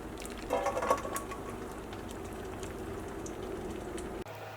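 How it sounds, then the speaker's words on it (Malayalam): Water from nearly cooked rice for fried rice is poured off through a strainer, making a steady, quiet hissing splash with a brief livelier spill near the start. "അപ്പോൾ ഇതിൽ നമുക്ക് വെള്ളം ഊറ്റി കളഞ്ഞിട്ട് എടുക്കാം."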